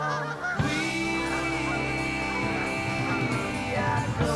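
A flock of geese honks overhead, loud overlapping calls starting abruptly and carrying on continuously, some voices near and others slightly farther off.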